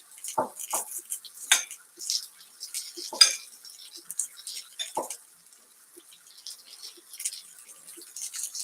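A spoon clinks against a bowl while peach marinade is ladled over peaches, with light metallic taps and soft liquid drips spaced irregularly and close by.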